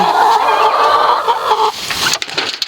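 Several chickens cluck and murmur close by, a busy steady chatter that turns choppier near the end.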